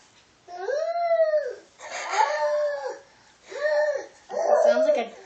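A young child vocally imitates a dying dog with four drawn-out, whimpering howls, each wavering and rising then falling, close and loud with short pauses between.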